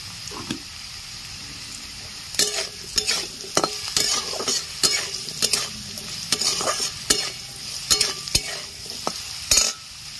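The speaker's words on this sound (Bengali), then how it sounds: "আলুগুলো লাল করে ভাজা হয়ে গেছে" Potatoes with turmeric and salt sizzle and crackle in a hot pan while a spatula stirs and scrapes them in repeated sharp strokes, close and fairly loud.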